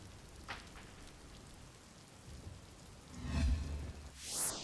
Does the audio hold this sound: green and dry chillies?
no